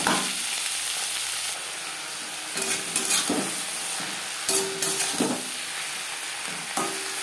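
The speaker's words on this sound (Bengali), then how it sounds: "টুকরো করে কেটে রাখা টমেটো আর রসুন। হালকা করে ভেজে নেব।" Chopped tomato and garlic lightly frying in a pan, a steady broadband sizzle with intermittent scraping and stirring clatter from a utensil, close and moderately loud, with no talking.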